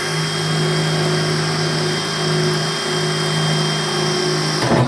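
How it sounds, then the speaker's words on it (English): A power drill drills holes in a metal mint box with a steady, loud whining hum that holds for several seconds, then cuts off abruptly at the end. "Drilling holes in the mint box."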